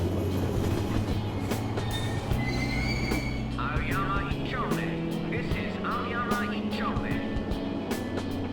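A train runs in Persona 5, with steady rumbling wheels, repeated clacks and squeals of metal, and speech heard over the noise.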